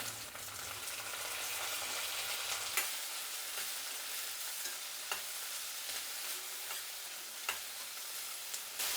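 Onions sizzle steadily in a hot pan with green chillies and cumin, a continuous bright frying hiss with occasional stirring scrapes and soft pops, close and alone without talk.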